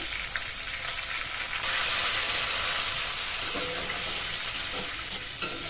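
A spice paste of salt, turmeric, red chilli powder and cumin powder, with a splash of water, sautés in hot oil, giving a loud, steady, close sizzle throughout with no voices.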